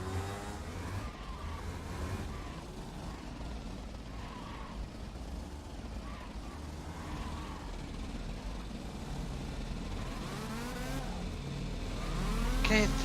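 A kart engine in the rFactor 2 sim racing game buzzes continuously, its pitch rising and falling through the corners, with a voice talking over it.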